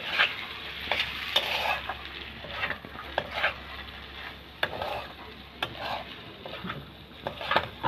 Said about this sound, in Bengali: পেঁয়াজটাকে এবার ভালো করে ভেজে নেব।